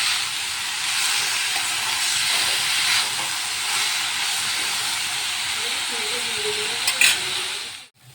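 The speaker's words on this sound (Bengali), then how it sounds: "রসুন নিয়ে আলু দিয়ে ভাজছি" Bitter gourd and potato frying with garlic in a pan give off a steady, loud sizzling hiss that carries almost unbroken for about eight seconds, then cuts off abruptly.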